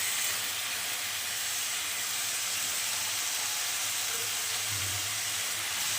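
Spice paste (masala) hitting a hot pan makes a loud, continuous hissing sizzle that holds steady throughout, with a faint low rumble beneath.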